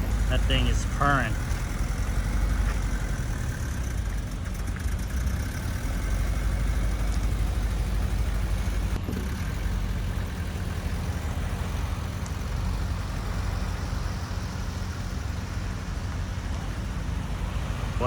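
A VW Upfitters van's engine idles with a steady low rumble that stays constant and fairly close, mixed with broad outdoor noise and no clear speech.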